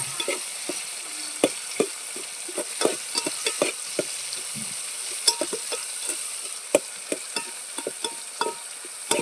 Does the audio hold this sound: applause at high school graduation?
no